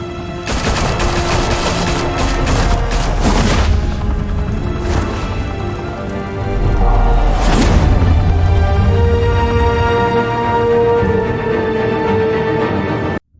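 Heavy gunfire from a shootout in Batman: The Telltale Series, with loud, dense bursts of overlapping shots and booming impacts filling the whole stretch, with no one talking.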